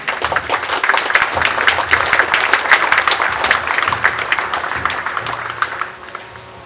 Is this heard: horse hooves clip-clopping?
no